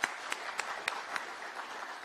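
A small audience claps at a business event in Kenya, a faint, thin round of scattered hand claps with a few sharper individual claps standing out, distant and brief.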